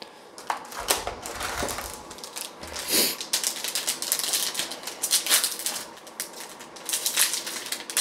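Demon Rush trading card game booster packs are torn open and handled, producing close, irregular crinkles, snaps and clicky rustling in quick uneven bursts, with no talking.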